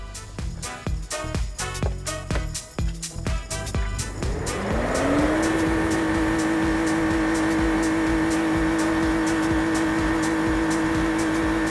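A BMW E46 six-cylinder engine with gravel added to it revs hard in a series of sharp bursts, then rises into a loud, sustained high-pitched whine held steady to the end.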